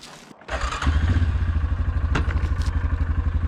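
A 4-wheel-drive vehicle in low range drags a log: the engine starts up and settles into a loud, close, rhythmic throbbing idle with clattering and scraping over it.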